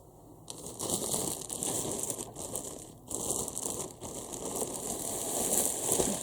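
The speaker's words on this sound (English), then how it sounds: "Huge plastic bag around it." Plastic sheeting crinkles and rustles continuously, close and fairly loud, with brief pauses between bursts of handling.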